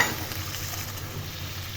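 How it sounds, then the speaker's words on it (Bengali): A steady broadband sizzle rises from a pan of browned mutton as water goes in, forming a close, continuous hiss that holds without a break throughout. "এখন একটু জল দিয়ে দিচ্ছি"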